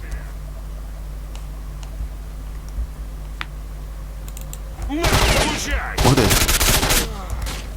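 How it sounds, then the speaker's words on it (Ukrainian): Gunfire in the video game S.T.A.L.K.E.R.: Shadow of Chernobyl: faint, sparse gunshots pop in the distance, then a loud burst of rapid gunfire and harsh noise erupts midway, with a voice briefly heard. "Десь десь стріляє."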